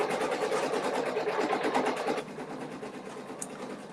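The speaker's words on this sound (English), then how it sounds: "Just do the satin stitch." An embroidery machine sewing a satin stitch, a fast, steady mechanical whir with rapid needle chatter, louder for the first two seconds then continuing at a lower level.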